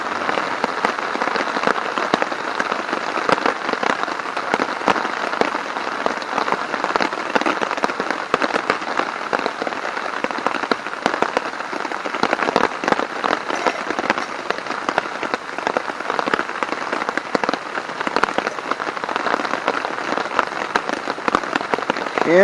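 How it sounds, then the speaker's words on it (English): Rain patters steadily on a tent pitched beside a stream, a dense, even drumming of drops on fabric, close and continuous with no voices. "And it is raining."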